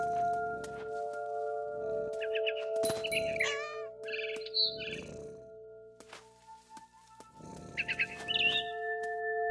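Birds chirp in the video game What Remains of Edith Finch, short bright twittering bursts over quiet ambient tones and soft thuds, fairly faint.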